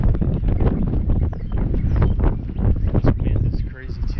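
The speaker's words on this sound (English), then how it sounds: "This wind is crazy too." Strong wind buffets the microphone outdoors at a shop lot, a loud continuous rumbling roar with gusty rustling throughout, with someone talking over it.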